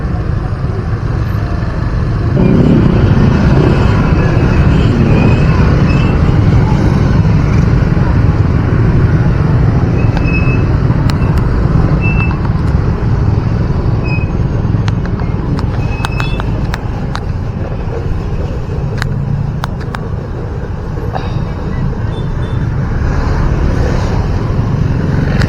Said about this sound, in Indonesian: Wow, macet.